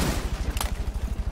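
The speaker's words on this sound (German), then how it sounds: "hier fallen schon die ersten Schüsse" Gunfire in an esports match of a Ubisoft tactical shooter, a rapid rhythmic stream of automatic shots with one sharper crack partway through, sounding fairly close and with no talk over it.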